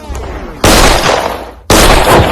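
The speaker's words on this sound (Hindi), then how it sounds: "गोली चला दी।" Two sharp, very loud gunshots in a film scene, about a second apart, each bursting with a harsh blast and a short roaring tail, after a quieter lead-in.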